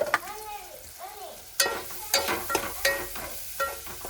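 Chopped green coriander and green garlic leaves being stirred into a samosa filling in a pan, with a few sharp scraping strokes of the spoon against the pan after some brief tonal sounds at the start.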